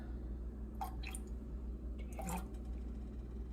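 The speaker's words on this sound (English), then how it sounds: "3 splashes of vanilla." Vanilla extract is splashed into a cookie mixture in a couple of soft, brief liquid drips over a quiet background.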